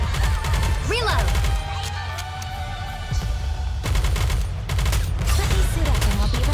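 Rapid gunfire bursts from the video game Goddess of Victory: Nikke, loud and dense with a brief lull in the middle, layered under game music and battle effects, with voices speaking over it.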